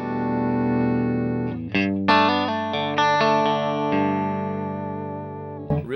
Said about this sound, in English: Real pretty and sparkly with the Strat.